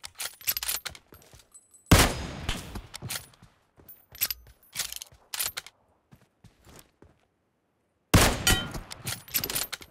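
Gunfire in the battle-royale shooter PUBG Mobile, with bursts of loud shots and rapid automatic fire around two and eight seconds, plus scattered shorter shots, clanks and footsteps between quieter gaps.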